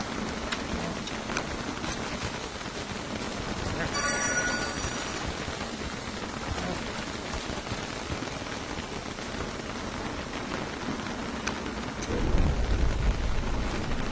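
Steady rain pours down in the game Don't Starve: Reign of Giants, with a brief crackle of lightning early and a deep thunder rumble near the end, all loud and continuous with no speech.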